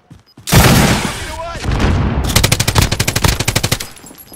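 Automatic gunfire in Call of Duty: Modern Warfare, a loud continuous blast of shots followed by a rapid, evenly spaced burst of rounds, with a faint voice underneath.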